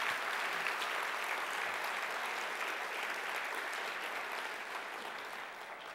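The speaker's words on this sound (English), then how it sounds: "So give them a round of applause as well." Sustained applause from a large crowd at a city State of the City address, steady and full for several seconds before easing slightly at the end.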